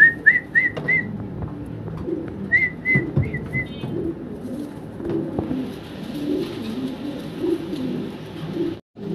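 Large yellow Andrope pigeons, a breeding pair, give a few close soft coos in two quick clusters at the start, followed by a low murmur of background noise.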